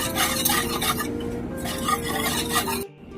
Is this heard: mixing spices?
yes